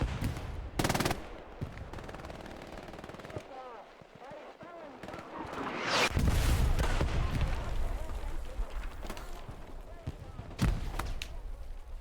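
Gunfire on Hill 400 in the Hell Let Loose WWII shooter, with bursts and single shots in a sustained firefight, loud swells around the middle, and a voice speaking over the battle.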